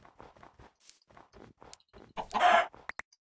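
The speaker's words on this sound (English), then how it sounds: "chickens over here" Chickens clucking in Minecraft, a few short soft clucks and light footstep-like ticks, ending in a louder burst of rustling noise, no talking.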